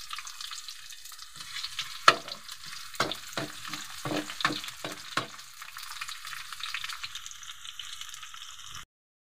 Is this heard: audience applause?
no